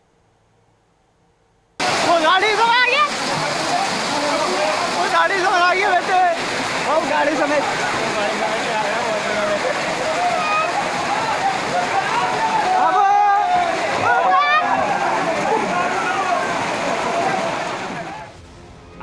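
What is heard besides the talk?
floodwater rushing after heavy rain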